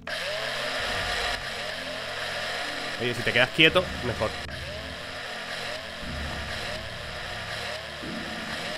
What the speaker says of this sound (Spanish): puedo extraer un poco con el taladro